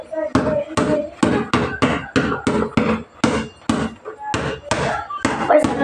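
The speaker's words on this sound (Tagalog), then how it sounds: "Nandito ko siya sa baba para makita nyo mga dribbling ko sa baba yan." A basketball dribbled on a hard floor during a workout, giving a steady run of sharp, loud bounces in quick rhythm with brief pauses.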